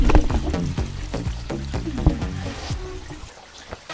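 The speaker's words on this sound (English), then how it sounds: "as the water subsides in the sluice" Water drains and trickles out of a gold-mining sluice once the pump shuts off, with close splashing and dribbling that gradually thins and quiets over a few seconds.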